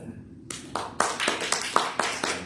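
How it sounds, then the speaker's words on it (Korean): A small church congregation claps in irregular bursts during a Sunday service, building from a few scattered claps into fuller applause, fairly close. "잠깐 일어나서 우리 박수 한번 해줄까요?"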